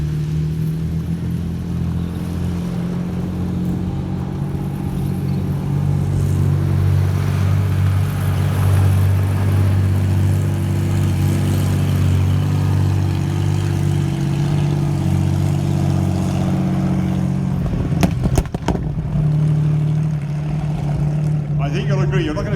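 A Comet tank's large engine rumbles loudly and steadily with a deep, throaty roar, with a burst of sharp cracking exhaust pops near the end.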